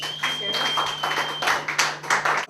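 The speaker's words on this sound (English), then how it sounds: "Give him a nice round of applause." Audience applause at a live comedy show as the next comedian is brought on: a steady wash of clapping with bursts and cheers, a constant tone and a voice running underneath.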